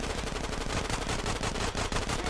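Rapid bursts of GTA San Andreas gunfire rattle continuously, dense and loud, like automatic weapons firing without pause.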